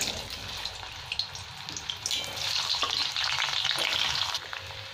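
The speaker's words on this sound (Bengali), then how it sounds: "এবার আমি আলুগুলো ভেজে নিচ্ছি তেলের মধ্যে।" Peeled boiled potatoes fry in mustard oil in a wok, giving a steady crackling sizzle that swells louder about halfway through, with a few light stirring knocks and no talk.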